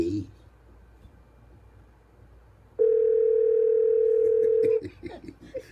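A telephone call's ringing tone: a single steady, loud electronic tone held for about two seconds, rising out of quiet room noise with faint background murmur before and after.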